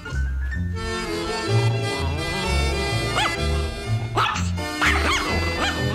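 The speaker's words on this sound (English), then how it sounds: "Woof, woof, woof, woof." A dog barks in short bursts and yips over a steady musical backing, the barks loudest toward the middle and end.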